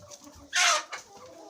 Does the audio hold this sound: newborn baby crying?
no